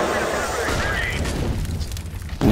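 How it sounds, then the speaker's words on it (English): Grenades burst during a professional CS:GO tournament match, with booming blasts and crackling flames in the game mix. They sound under an excited commentator's voice, and a sharp bang lands near the end. "Nades will go in."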